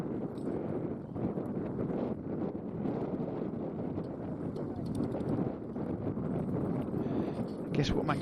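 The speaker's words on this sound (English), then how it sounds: "And you can hear that wind." Strong wind buffets the microphone at a ploughing match in East Kent in a continuous rough roar, gusting louder and softer throughout.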